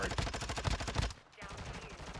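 Rapid automatic gunfire in a Call of Duty match rattles in dense, loud bursts for about a second, then drops to quieter background game noise.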